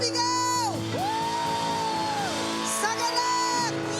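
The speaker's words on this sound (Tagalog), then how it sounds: "Lahat po ay sumigaw!" Church congregation at a Sunday service shouting and whooping together, a loud sustained crowd roar with rising and falling whoops layered over steady background music.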